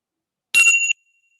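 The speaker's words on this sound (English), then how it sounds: "Listening to the sound of the bell, allowing the bell to bring you back." A single bright meditation bell rings once, sharp and clear, in a guided meditation, then cuts off quickly with a short ringing tail and silence around it.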